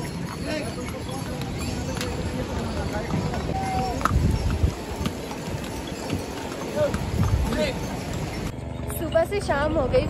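Horse hooves clip-clop steadily along a mountain pilgrimage trail to Kedarnath, a continuous rhythmic trot under ambient outdoor noise and voices, with a brief change of scene near the end.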